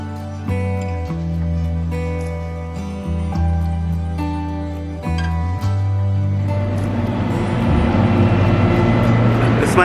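White Pass train in Skagway, Alaska, a low steady rumble and droning tones that shift in pitch, turning into broadband rolling noise in the later part, fairly loud and close.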